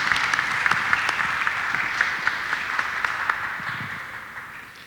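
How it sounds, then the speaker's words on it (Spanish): An audience applauds at an International Mother Language Day event in Huauchinango, Puebla: a lively burst of many hands clapping, loud at first and gradually thinning and fading toward the end. "De los aplausos."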